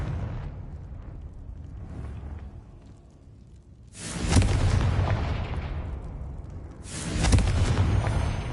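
A fiery Confringo spell blast from Hogwarts Legacy erupts loudly with a broad booming burst, followed about three seconds later by a second heavy explosion, each trailing into a rumbling tail over low ambient game sound.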